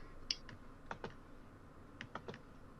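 Several computer keyboard keys click sparsely, quiet and close, scattered across a few seconds of near silence.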